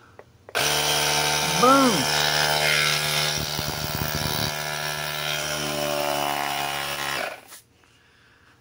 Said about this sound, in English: Let's hit that compressor mode.